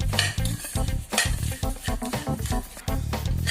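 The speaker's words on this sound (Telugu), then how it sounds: "దాన్ని బాగా మిక్స్ చేసుకోవాలి." A spoon scrapes and stirs an atukula (flattened rice) mixture around a pan in quick rhythmic strokes, with a light sizzling crackle and occasional clinks against the metal, close and clear.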